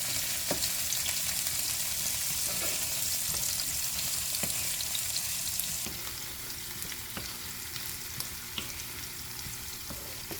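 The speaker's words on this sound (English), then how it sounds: "when you saute the garlic and put the onion and the bell pepper" Garlic, scotch bonnet pepper and red onion sautéing in a pan give a dense, continuous sizzle and crackle, close up, easing slightly partway through, with a few faint clicks of stirring and no voices.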